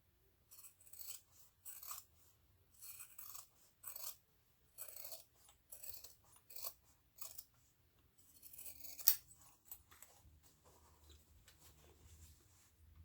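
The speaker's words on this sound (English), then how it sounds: "I'm going to go right in here and trim the seam allowances along the sides and bottom down to 1/8 of an inch." Scissors snip through fabric seam allowances on a sewn clutch or crossbody bag, trimming along the sides and bottom; a steady run of quiet, close cuts in short bursts, then softer rustling and handling of the material.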